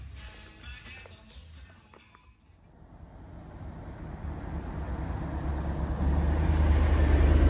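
Cars roll past the entrance of a K9 charity car show at Caesar Creek State Park, Ohio. A low engine rumble dips, then swells steadily and grows loudest at the end, with no talk over it.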